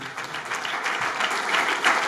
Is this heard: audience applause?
yes